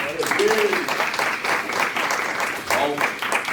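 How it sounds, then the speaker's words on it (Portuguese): A church congregation applauds together during a service, with dense sustained clapping throughout and some voices mixed in. "Você pode aplaudir o Senhor?"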